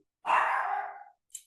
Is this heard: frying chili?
no